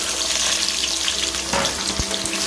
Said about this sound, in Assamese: পিয়াজখিনি অকণমান মই ৰঙচুৱা হোৱালৈকে ভাজি ল'ম